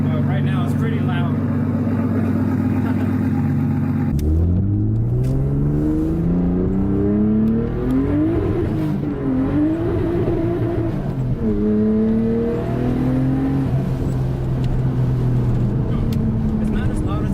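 A Nissan R32 Skyline with a straight-piped exhaust rumbles loudly, settling from a steady idle into rising and falling revs that swell and drop over several seconds, close by with no clear talk.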